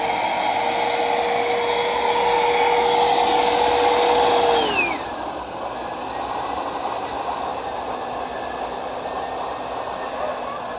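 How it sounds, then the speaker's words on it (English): A bagless vacuum cleaner runs loud and close while sucking up water, its motor whine holding steady and then sliding down in pitch as the suction changes, continuing as a lower roar, no talking. "a bagless vacuum cleaner that was able to suck up almost a whole bucket of water"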